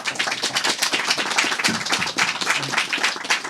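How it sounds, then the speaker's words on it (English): A lecture audience gives a speaker a round of applause, with dense, steady clapping from many hands filling the room for a few seconds, close and fairly loud. "Let's give her a round of applause."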